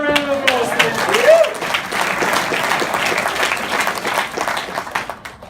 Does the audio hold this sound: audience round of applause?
yes